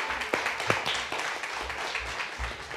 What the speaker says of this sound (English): Give another round of applause to Samantha.